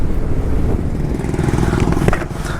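A Yamaha R1 superbike with a TOCE full exhaust system roars loud and close with a rough, rising engine note during a wheelie, ending in a brief sharp burst.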